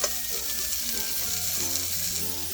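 Potato pieces and softened onions sizzle steadily in a hot pan of oil for a Bengali drumstick-greens chorchori dish, a close, continuous crackling fry with faint stirring and no voices.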